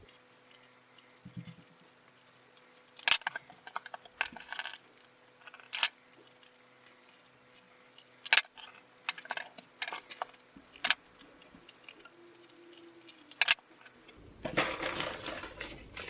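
Scissors cut through folded paper while a paper rose is being made, a series of sharp crisp snips and rustles spread irregularly over the stretch, fairly close and quiet, with no talking.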